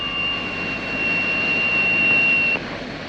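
Trident jet airliner engines taxiing, a steady broadband roar with a high whine running through it, loud and continuous before easing slightly near the end.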